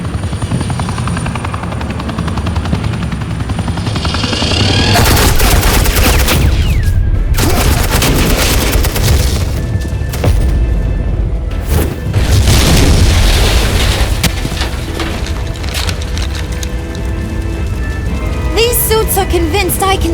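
Sustained suppressing gunfire in the Batman: The Enemy Within Telltale video game, dense and loud throughout, mixed with heavy booms and a helicopter-like roar, with no talking.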